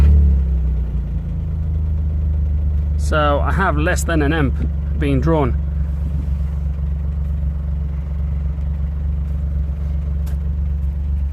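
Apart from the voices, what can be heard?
Smart Fortwo 451 car engine starting and running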